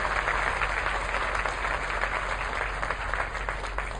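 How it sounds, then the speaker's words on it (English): Audience at an 8th grade graduation ceremony clapping for the candidates, steady moderate applause filling the whole stretch without a break. "Let's please give all the candidates a round of applause."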